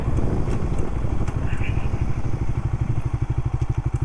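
A Suzuki Raider FI motorcycle runs close by with a loud, throbbing engine beat whose pulses grow more distinct toward the end, with no voices over it.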